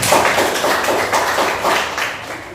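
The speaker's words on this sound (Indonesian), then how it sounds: "Tepuk tangan dulu untuk Dania." Students in a classroom give a short round of applause for a classmate, a steady close patter of many hands lasting a couple of seconds.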